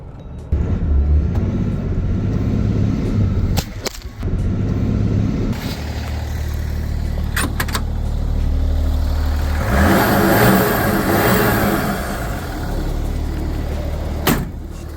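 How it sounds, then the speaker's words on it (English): A Lincoln car converted to a diesel engine accelerates with a strong engine drone and rising turbo whoosh, with brief surges, a mid-clip dip and a few sharp clicks, close and loud with no voices. "Turbo noises."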